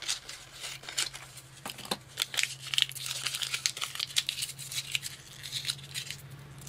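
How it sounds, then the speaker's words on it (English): A circle of yellow paper is crumpled by hand for a mixed-media collage, giving close, busy crinkling and rustling with irregular crackles throughout. "Crinkle it up,"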